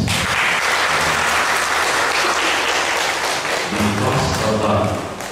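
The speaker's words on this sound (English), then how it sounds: "Let's give them a round of applause." Wedding guests give a sustained round of applause, loud and dense clapping filling the whole stretch, with faint voices murmuring underneath and the clapping tapering slightly at the end.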